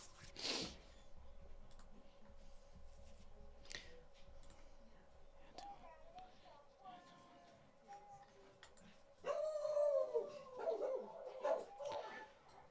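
Inside a house, a dog barks and lets out drawn-out, wavering howls, faint and somewhat distant, coming in intermittent bursts with the longest, strongest howling near the end and a few clicks in between.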